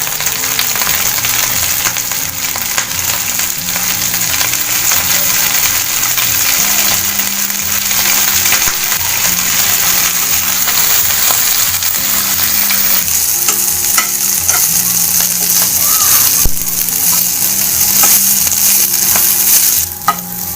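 Pirandai stems sizzle and fry in hot sesame oil in a pan, with steady crackling and repeated scraping strokes of stirring over about twenty seconds, and nobody speaking.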